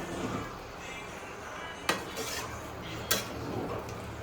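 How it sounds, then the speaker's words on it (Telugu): A spoon stirs chicken roast dressed with lemon juice in a pan on a switched-off stove, giving a steady scraping rustle with two sharp metallic clinks against the pan and no talking. "ఒకసారి మళ్ళీ మిక్స్ చేసుకుందాము నిమ్మరసం వేసాం కాబట్టి"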